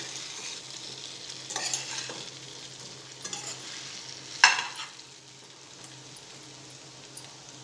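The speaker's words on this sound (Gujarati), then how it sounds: "એક મિનિટ આ રીતે આપણે તેલમાં શેકાવા દઈશું." Gujarati patra fry in hot oil with a soft, steady sizzle, broken by occasional louder crackles and the clink of a spoon stirring in the pan.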